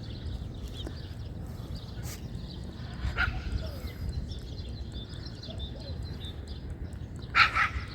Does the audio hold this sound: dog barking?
yes